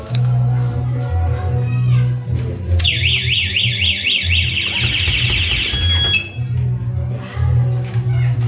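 A loud electronic alarm siren on a 2018 Honda CBR250 motorcycle warbles rapidly for several seconds, rising and falling in a fast repeating sweep over a steady hum, then cuts off.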